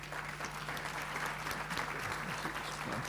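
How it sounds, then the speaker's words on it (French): A church congregation applauding in praise, steady dense clapping that fills the whole short stretch at moderate level, with a low hum running underneath. "On peut applaudir le Seigneur."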